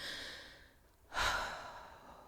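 A single deep breath, a quiet hiss of air drawn in and then released in a soft sigh, close and alone against a hushed background.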